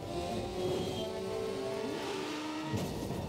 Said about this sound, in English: risky driving on a motorcycle.